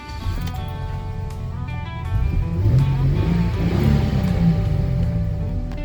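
A truck engine cranks and fires up, then settles into a steady, loud idle with a deeper rumble swelling midway; the running engine dominates throughout at close range.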